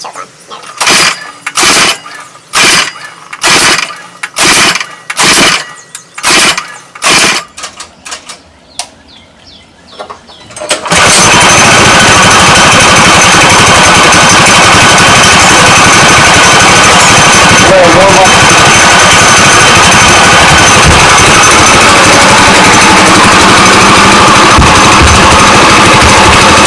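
A Manco Black Fox go kart engine with the choke on: a string of rhythmic pull-start bursts, a short pause, then it catches and runs with a loud, steady, unbroken roar.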